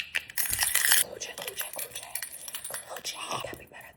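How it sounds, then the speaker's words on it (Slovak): Keys jangle as they are pulled from a bag, a bright metallic rattle up close that comes in short bursts, and a voice whispers alongside. "Kľúče."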